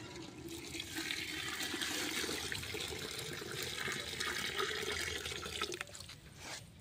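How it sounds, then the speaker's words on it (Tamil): About four litres of water pour steadily into a large cooking pot for chicken biryani for 2 kilos of rice, a continuous rushing splash that ends abruptly with a knock. "2 கிலோ பிரியாணிக்கு 4 லிட்டர் தண்ணி அதை வந்து நான் அளந்து வச்சுருக்கேன்"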